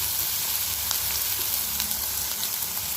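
Dal and curry leaves sautéing in a pan for a cabbage poriyal, a steady close sizzle and crackle of hot oil running throughout with faint stirring clicks.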